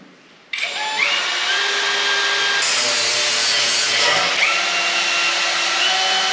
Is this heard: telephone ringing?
no